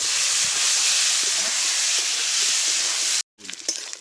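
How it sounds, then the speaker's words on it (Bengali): Boiled potatoes fry in hot oil with whole dried chillies, cumin seeds and chopped onion, giving a loud, even sizzling hiss that cuts off sharply near the end, followed by faint clatter. "সেদ্ধ করে রেখেছিলাম আলুগুলো ভেজে নেবো"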